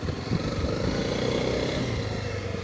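A Honda CRF300L Rally motorcycle engine running steadily at low revs as the bike leans through a slow turn, a loud, continuous rumbling drone with a slight rattle.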